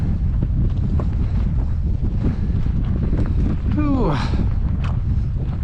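Cold wind gusts hard across a microphone on a mountain trail during a Pacific Crest Trail thru-hike, a loud constant roar with a brief exhaled exclamation from a hiker over it.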